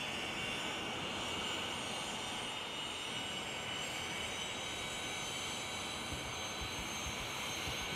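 An A-10 jet engine in a video game at full throttle on the takeoff roll, a steady, dense, continuous roar with a high whine, even and unbroken throughout.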